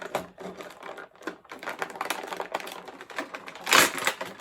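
Crinkly plastic blister packaging crackles and snaps as a Pudgy Pig action figure from the Mighty Morphin Power Rangers Lightning Collection is pulled out of its molded tray, giving a run of close, irregular rustles and clicks with a sharper burst near the end.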